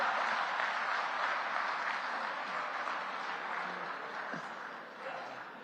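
A large audience at a national seminar claps in a steady, dense wash of applause that fades slightly toward the end, with no speech over it.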